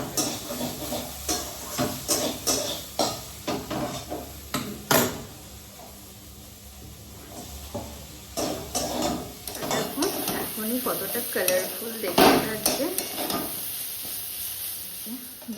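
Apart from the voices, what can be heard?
frying beans, capsicum, onion, broccoli, carrot in pan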